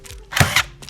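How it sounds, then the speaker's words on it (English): A staple gun fires twice in quick succession, close and sharp, fastening garage wall insulation to a wooden stud. "all you gotta do is staple it"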